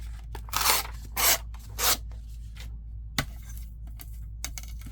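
Scissors trim paper cards with three long, crisp slicing cuts in quick succession, then a lone snip and a few light paper rustles and clicks, close up over a low steady hum.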